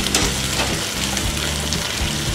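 Tandoori chicken sizzling loudly in a pan on a gas stove, a continuous dense frying hiss with soft shifting and scraping as the pieces are turned.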